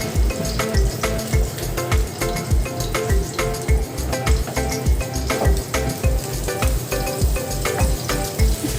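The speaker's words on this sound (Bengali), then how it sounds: "বেশি কড়া করে ভেজে নেওয়া যাবে না" Oil sizzles loudly and continuously as food fries in a pan for an egg and masoor dal recipe, a dense close crackle with a steady pulsing thump underneath and no voices.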